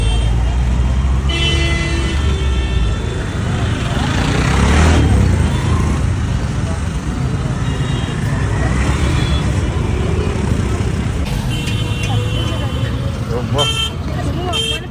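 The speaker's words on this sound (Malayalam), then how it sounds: "ട്രാഫിക് ഒക്കെ" Delhi street traffic heard from inside an electric rickshaw: a constant roar of engines and road noise with frequent horn honks near and far, and occasional voices.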